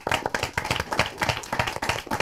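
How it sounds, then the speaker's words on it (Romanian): Lively clapping breaks out on a quiz-style talk show, a small group applauding close up in quick, uneven bursts with some voices mixed in. "Aplauze!"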